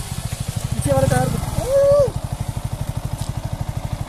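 A motorcycle labors along a broken, unfinished road, its engine chugging in a steady rapid putter close by, rising briefly in a strained rev while a voice cuts in over it.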